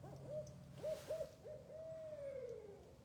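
A northern owl calls in a quiet outdoor setting with a few short hoots followed by one longer drawn-out hoot, clear but moderately soft against a low background hum.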